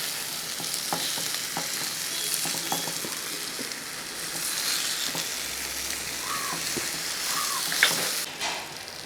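Fish masala fry sizzling in a pan in a Kerala kitchen, a steady close crackling hiss with a few scrapes and stirs, with no talk.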